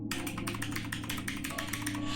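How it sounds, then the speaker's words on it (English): A loud, clicky computer keyboard being typed on rapidly, with dense, evenly paced clacks close to the microphone, steady throughout and with no voices. "I have a loud keyboard."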